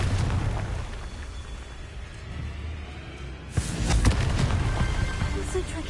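A Confringo fire spell from a Hogwarts wizarding game bursts with a sudden sharp boom partway through, followed by a rumbling, crackling blast over steady background noise.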